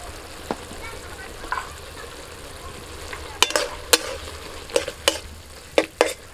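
Poppy seed paste is stirred into cooked gourd in a pan: a soft sizzle runs underneath while a spoon clanks against the pan in scattered sharp knocks that grow more frequent toward the end.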